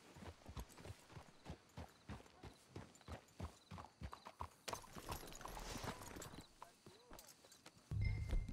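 Horses' hooves clip-clop in a steady, even rhythm for several seconds, fairly faint, before the walking breaks up and stops. Voices can be heard faintly underneath.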